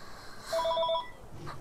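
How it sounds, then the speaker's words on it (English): A phone rings with a short electronic telephone-bell tone, a quick repeating trill lasting under a second, fairly loud and close, then fading to quiet room sound. "awkward moment when your phone starts ringing"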